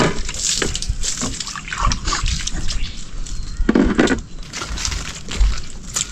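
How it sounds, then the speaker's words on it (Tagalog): Water splashes and trickles steadily at close range, a dense continuous wash of liquid sound with brief louder sloshes and no clear talk over it. "Dito yung tubig na kanina."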